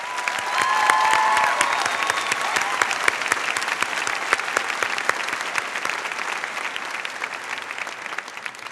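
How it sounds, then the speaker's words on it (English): A graduation audience at a high school ceremony applauds an orchestra director, a dense, steady wash of clapping that swells early and holds evenly throughout, with faint voices mixed in. "Can I take this moment right now to give a round of applause to the best orchestra director ever"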